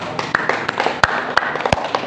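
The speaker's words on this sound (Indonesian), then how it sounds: "Tepuk tangan dulu bagi Tuhan" A church congregation claps after a sermon, with a handful of sharp, loud claps standing out from lighter scattered clapping over a short burst.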